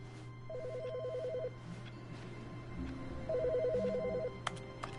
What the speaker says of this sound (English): Is there a phone ringing?